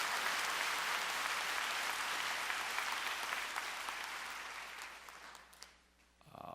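A church congregation applauds during a Korean sermon: dense, steady clapping that fills the room at moderate distance, then tapers and drops away near the end.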